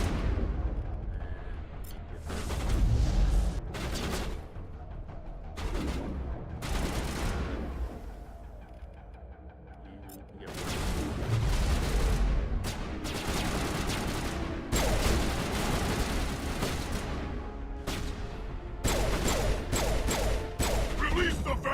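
Gunfire in the Mass Effect video game, dense bursts of rapid automatic shots and heavier blasts in loud volleys, separated by brief lulls, with faint voices under the combat.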